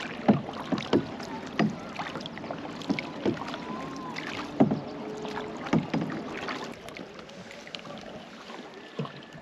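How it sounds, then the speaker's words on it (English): Rhythmic splashes and knocks of canoe paddles dipping into lake water, repeating every second or so, with light wind in the background. "All right, we're on our canoes paddling."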